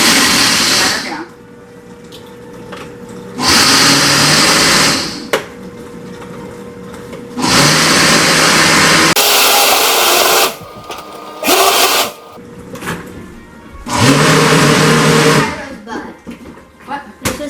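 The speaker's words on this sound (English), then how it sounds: "But we're just going to hit the smoothie function." A blender on its smoothie setting whirs loudly in repeated bursts of a few seconds each, separated by quieter pauses as the motor stops and restarts.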